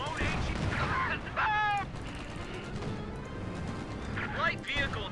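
Steady gunfire and crashing battle noise from the World War II strategy game Company of Heroes 2 in the Ardennes, a continuous dense clatter with shouted voices over it.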